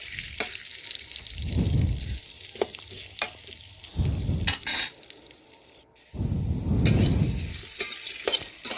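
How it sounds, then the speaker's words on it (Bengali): Potatoes frying with salt in a home kitchen pan, bursts of loud sizzling and spattering oil alternating with scraping stirs and quieter gaps, close and continuous. "এই দেখুন লবণ দিয়ে ভেজে নিচ্ছি"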